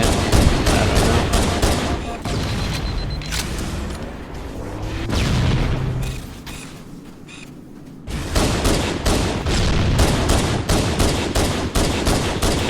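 Halo CE firefight with dense bursts of gunfire cracking almost without pause, easing into a quieter middle stretch before rapid shots return loud and close for the remaining seconds.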